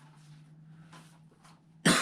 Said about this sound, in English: so much so I need to cough every movie